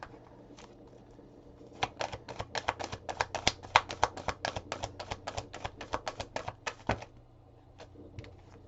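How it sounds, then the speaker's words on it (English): A deck of oracle or tarot cards is shuffled by hand during a reading, giving a quick, even run of crisp clicks for several seconds, close and clear, with no talking. "Shuffle again."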